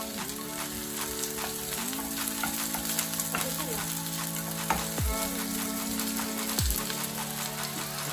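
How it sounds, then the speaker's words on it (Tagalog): Onion, garlic and tomato sautéing in a pan, a dense crackling sizzle throughout with a steady tonal hum and a few scraping stirs, no speech. "igigisa lang natin itong sibuyas. Bawang, tsaka yung kamatis until magkaroon siya ng parang water."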